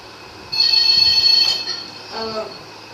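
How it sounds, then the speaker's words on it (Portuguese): A telephone rings with a bright, sustained electronic trill that stops abruptly, followed by a faint voice-like sound. "telefone"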